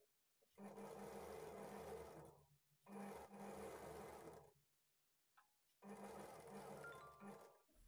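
A sewing machine stitches a lined blouse in three sustained runs of steady motor whir, each lasting about two seconds with short pauses between, close and fairly loud with no voices.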